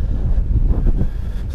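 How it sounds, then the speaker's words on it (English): Outdoor wind buffeting a microphone on a snowy driveway during plowing, a loud continuous low rumble with gusty fluctuations and no voices. "Sorry about the wind."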